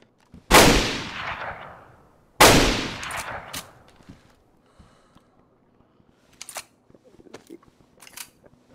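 Two loud, sharp rifle shots about two seconds apart ring out in an online raid defense game, each trailing a long decaying echo, followed by faint scattered clicks and small noises.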